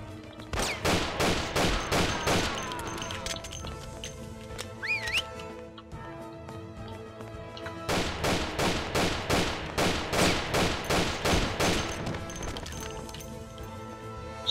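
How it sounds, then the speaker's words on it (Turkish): Bursts of rapid gunfire in the Mafia video game, two long rattling volleys separated by a quieter gap with a couple of brief metallic effects. "Birileri sıkıyor sağdan soldan"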